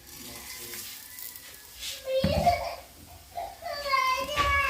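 Fine vermicelli and small green cardamom pods sizzle softly as they roast in a pan, a low steady frying hiss under a voice and other chatter nearby.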